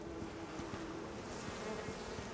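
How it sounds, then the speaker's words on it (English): Bees buzzing in the survival video game Icarus, a steady close drone of insect wings that holds for the whole stretch with no talk over it. "Oh, bees."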